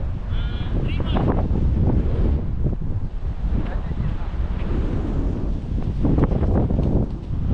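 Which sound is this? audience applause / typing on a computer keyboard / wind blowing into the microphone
wind blowing into the microphone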